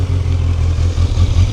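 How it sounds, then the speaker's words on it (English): Kawasaki Z900 2025 motorcycle idling close by, a steady loud low rumble from the exhaust with a slight throbbing pulse and no talk. "Let me show you the exhaust note."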